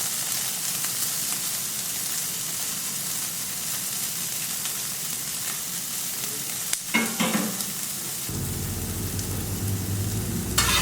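Eggs for an omelette cook on a Camp Chef FTG600 flat top grill turned down to low heat, a steady hissing sizzle close by, with a brief clatter of a utensil and a shift in background hum near the end.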